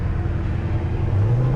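1966 Plymouth Satellite convertible engine running, a low steady rumble with a rising tone near the end as it pulls, heard close from inside the car.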